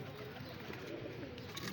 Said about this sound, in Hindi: ये ज़ीरा कबूतर देखें आप